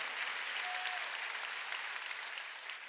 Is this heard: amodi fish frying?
no